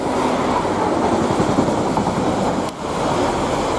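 Class 66 locomotive 66657 passing Goring & Streatley station, a loud, close rumble with clattering wheels and a brief dip near the end before the rolling noise resumes.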